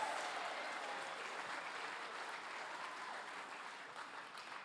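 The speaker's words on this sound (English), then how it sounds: "give them one more big round of applause." An audience gives a choir a big round of applause at a 40th anniversary show, with steady, even clapping throughout, heard at a fairly low level.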